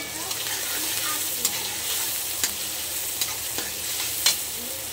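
Tomato and ginger-garlic paste frying with onion in a pan for egg curry, a steady close sizzle with occasional scraping stirs and light clinks.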